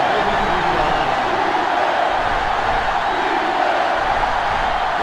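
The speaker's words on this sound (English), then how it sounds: "this crowd is going absolutely insane" Stadium crowd in the NCAA Football 06 video game, Washington versus Nebraska, roaring as a steady, dense wall of noise throughout, loud and continuous with no breaks.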